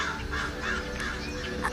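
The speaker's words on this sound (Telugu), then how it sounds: "అక్కడున్న చెట్టు కొమ్మ పైన కాకి కనిపించింది" A crow on a tree branch caws in a quick run of harsh calls, repeated several times in under two seconds, moderately close over a steady background hum.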